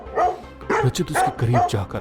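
A dog barks loudly and repeatedly in several close, sharp bursts, mixed under a narrator's speaking voice in a Hindi horror story.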